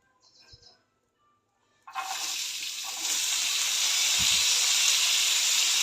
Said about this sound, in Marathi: तेल घालून कांदा आणि टोमॅटो भाजून घेते